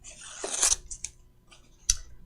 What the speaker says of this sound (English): now we can cut our threads.